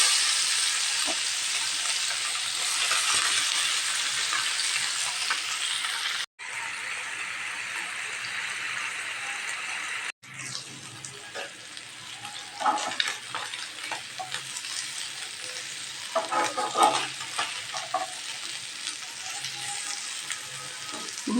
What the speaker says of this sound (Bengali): এখন আমি মাছটা তেলে ভেজে নিব।